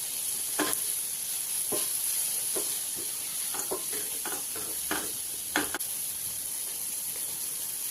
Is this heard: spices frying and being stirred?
yes